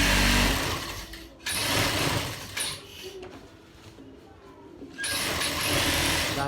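A sewing machine stitching a baby girl's suit runs in bursts, loud rapid whirring stretches separated by quieter pauses, close up, with a voice speaking softly in between.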